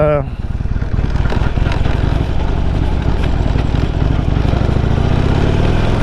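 Motorcycle engine droning steadily at road speed on a highway, loud and continuous with wind rush and a rising rev at the start, no talk.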